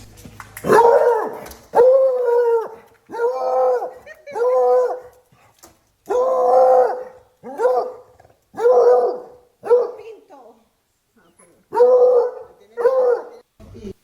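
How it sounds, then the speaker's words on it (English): Dogs bark and howl in a long run of loud, close, evenly spaced outbursts, roughly a dozen calls with short gaps, reacting to barking nearby near a home where an alligator approached the back door in Florida. "My dogs are reacting to the barking."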